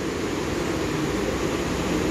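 An EU07 electric locomotive passes through Bydgoszcz station at night, hauling a sleeping car and four ordinary coaches, giving a steady, loud rolling rumble that holds unbroken throughout with no voices.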